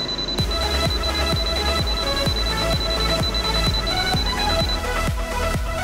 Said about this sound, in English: NCV non-contact induction buzzer sound when voltage is sensed